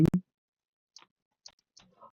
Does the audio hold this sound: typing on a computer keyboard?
yes